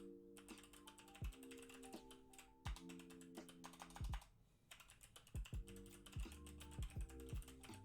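Quick bursts of key presses rattle on a computer keyboard, clustered clicks with short pauses between runs, close and fairly quiet, with no talk over them.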